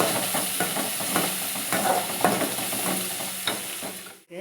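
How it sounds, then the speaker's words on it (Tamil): Onions and green chillies sauté in a pan, giving a steady close sizzle and hiss with rhythmic scraping strokes of a stirring spoon, ending in a short clatter. "வெங்காயத்தை போட்டாச்சு. இதை வதக்கிட்டுருக்கோம்."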